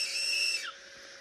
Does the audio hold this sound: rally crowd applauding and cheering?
no